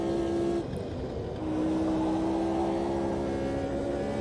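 A race car engine drones loud and steady in a sim racing game at Watkins Glen on the GP layout, with a sustained tonal whine that dips briefly, then holds near and continuous.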